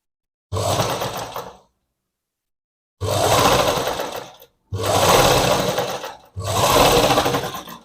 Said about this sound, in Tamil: நான் அதுலேயே அப்படியே ஸ்டிச் பண்ணிக்கிறேன்